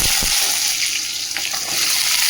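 Potatoes and vegetable stalks frying in hot oil tempered with nigella seeds in a kadai, a loud, dense, steady sizzle with a few soft stirring knocks.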